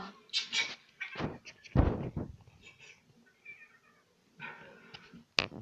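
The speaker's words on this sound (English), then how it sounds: "Maca malo gladná." A hungry cat calls in a few short, insistent bursts near the microphone, with pauses and quieter household noises between them.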